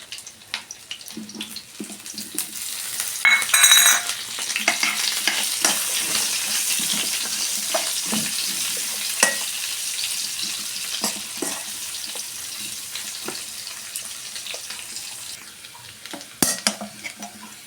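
Chicken fries in a pan with onion and green chili for a chicken curry, giving a close, continuous sizzle broken by scraping stirring strokes and a few clinks.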